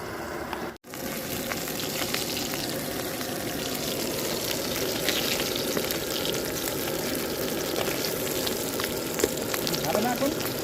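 Fish fry in hot oil on a boat on a Sundarbans river, a steady close sizzle running throughout with small pops, while voices talk intermittently over it.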